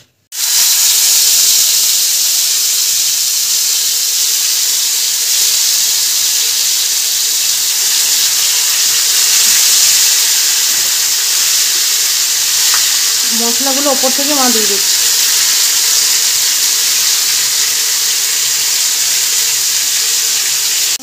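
Chicken chaap frying in hot oil in a home kitchen gives a steady, close sizzle with bubbling and hiss that runs unbroken through the whole stretch, while a voice speaks briefly partway through.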